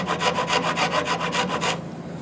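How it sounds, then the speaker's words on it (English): A hand rasp files along a wooden guitar neck in about nine quick, evenly spaced scraping strokes, close and alone, before stopping abruptly. "The reason I rarely chip out this side is because my rasp is going to be coming the other direction."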